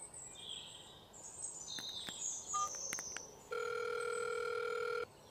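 An outgoing phone call is ringing. A few faint beeps and distant bird chirps come first, then a single steady electronic ringback tone sounds clearly for about a second and a half before cutting off.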